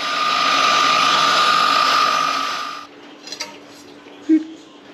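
A nibbler chews through metal trim on a 1950 Cadillac hearse, a loud, steady mechanical chatter for a few seconds that stops abruptly, followed by a couple of faint clicks and a short knock.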